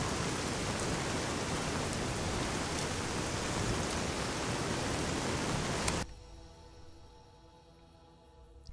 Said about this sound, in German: Endlich hat der Regen aufgehört.